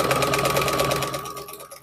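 A sewing machine runs steadily, stitching rag quilt backing fabrics with a half-inch seam, a close, continuous whirring motor and needle rhythm that eases off slightly at the end.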